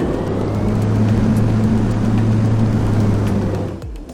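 A TBM 930 turboprop engine in a flight simulator game hums loud and steady with a low droning whine, holding its pitch before spooling down sharply at the end.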